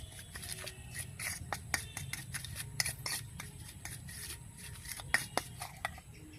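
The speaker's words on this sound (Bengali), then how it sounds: "এবার এগুলোকে ভালো করে মাখিয়ে নেব।" Hands mix flattened rice with chaat masala, black salt and amchur powder, making soft, close crinkly rustles and scattered dry scratchy clicks at a low level with no talk.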